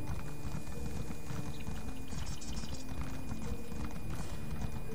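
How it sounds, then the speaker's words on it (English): Horse hooves clip-clop steadily in a ride through Elder Scrolls Online, a continuous rhythmic beat layered with game ambience and music, loud and close without voices. "Gotta try and not run over you with my horse."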